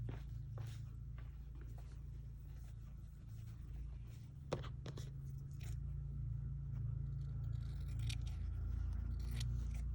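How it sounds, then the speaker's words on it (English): Scissors snip through tissue paper while a small peony flower is made, giving faint, sparse crisp cuts and light rustling over a quiet room. "So I just cut from the 3-inch mark"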